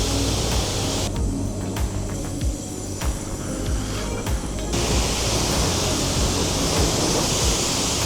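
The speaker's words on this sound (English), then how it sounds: "don't worry about the pressure washer, because on this one you can adjust the amount of pressure you're using" An adjustable pressure washer sprays water onto an electric motorcycle, a loud, continuous hissing roar that shifts in tone partway through as the jet moves.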